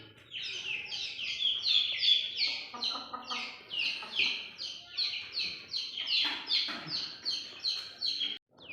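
Aseel chicks peep continuously in a rapid, high-pitched chorus, with occasional lower clucks from grown Aseel chickens close by.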